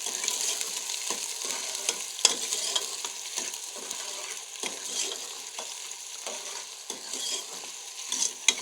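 White lobia beans with sliced onion stirred in a pan over a high flame, a steady frying sizzle broken by frequent scraping and clacking strokes of the spoon against the pan, close and fairly loud with no voices.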